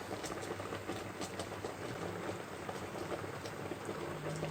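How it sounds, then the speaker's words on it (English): A pot of peas simmers with a soft, steady bubbling and occasional pops, faint and continuous with no voices. "And my peas is still boiling."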